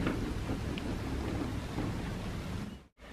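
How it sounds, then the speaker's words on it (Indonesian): Strong wind blowing outdoors on a cold morning, a steady loud broadband roar with gusty texture lasting nearly the whole time, dipping abruptly to near silence just before the end. "Di luar anginnya gede banget."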